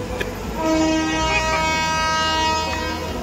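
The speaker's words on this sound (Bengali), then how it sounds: "এই গাড়ি আমাদের ছেড়ে দিল" A train pulls out of Jajpur station, its horn sounding a long sustained toot over the steady rumble and clatter of rail cars, loud and close throughout.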